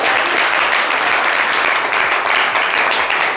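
Studio audience applauding on a live talk show, dense loud clapping that holds steady for the whole stretch.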